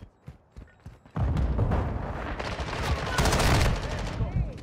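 Call of Duty gunfire from an M13 rifle: a few sharp shots, then a sustained loud burst of rapid automatic fire with echoing crackle, a voice briefly audible at the start.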